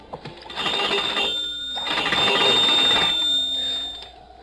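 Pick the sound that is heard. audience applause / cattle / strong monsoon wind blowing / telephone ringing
telephone ringing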